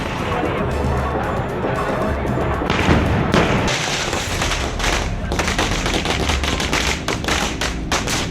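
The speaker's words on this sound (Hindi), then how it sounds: "ताबड़तोड़ गोलियां चल रही हैं।" Heavy, rapid celebratory gunfire at Holi crackles continuously, dense overlapping bursts of shots from dozens of guns with booming impacts, loud and close amid a noisy crowd.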